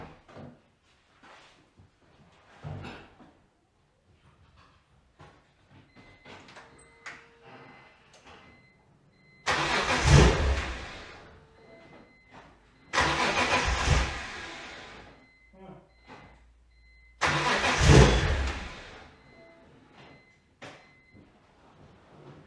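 A BMW E46 M3, fresh from a serpentine belt refit, cranks and fires in three loud bursts, each start sputtering briefly before fading back into quiet between attempts.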